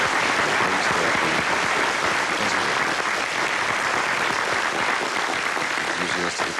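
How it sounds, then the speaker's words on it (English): Enthusiastic applause in mission control after satellite separation on an Ariane 44P launch, dense sustained clapping from a room of staff, loud and continuous with voices faintly mixed in. "Enthusiastic applause here in mission control."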